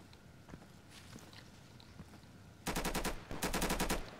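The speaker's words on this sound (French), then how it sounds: "ça tire sur ma position" Automatic gunfire in the video game Insurgency, with faint scattered shots at first, then two loud rapid bursts of closely spaced rounds near the end.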